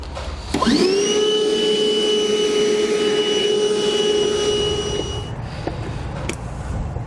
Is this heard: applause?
no